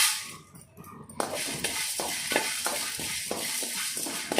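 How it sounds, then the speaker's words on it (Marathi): Whole spices such as cinnamon dry-roast in a pan for a Konkani red masala, giving a steady close rustle with repeated rhythmic scrapes and clinks of stirring after a quiet opening second. "इथे कापूर चिनी आपण भाजून घेऊया"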